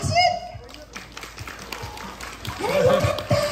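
Children at a Kumamon mascot appearance clap together, a short burst of lively applause mixed with kids' voices and chatter, starting loud and fading before more noise at the end.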